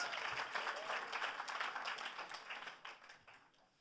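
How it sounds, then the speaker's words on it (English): An audience at a Grammy Museum benefit evening gives a sustained round of dense applause that holds steady, then gradually thins and fades toward the end. "So they deserve a huge round of applause for doing this."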